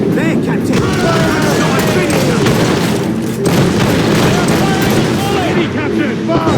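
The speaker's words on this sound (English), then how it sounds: "Red cannon ready! Fire!" Ship cannons fire in a naval battle in the video game Assassin's Creed Rogue, a dense, loud barrage of booms and crackling blasts layered over constant rumbling, with shouting voices mixed into the din.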